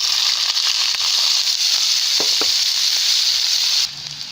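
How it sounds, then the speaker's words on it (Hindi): Shredded cabbage frying in leftover oil for vegetable fried rice, giving a loud, close, continuous sizzle that drops off sharply near the end, with no voices. "इसी बचे हुए ऑयल में अब बंद गोभी फ्राई कर लेते हैं।"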